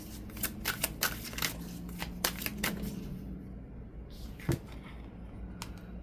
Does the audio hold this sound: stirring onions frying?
no